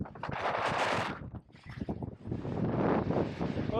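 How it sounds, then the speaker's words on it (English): Wind gusting outdoors beside a lake or stream on a trout and bass fishing outing, a broad roaring rush that surges, dips briefly midway, then builds again, loud and buffeting the microphone. "it's windy"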